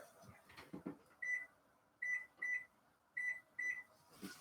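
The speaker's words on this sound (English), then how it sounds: "So I'm just setting my timer now" A kitchen timer set during a candy-making batch gives five short, bright electronic beeps in an uneven pattern, close and clear over faint room noise and light handling sounds.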